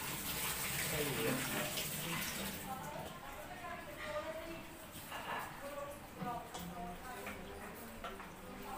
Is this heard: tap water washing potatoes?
yes